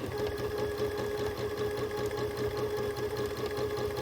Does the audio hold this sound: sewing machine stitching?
yes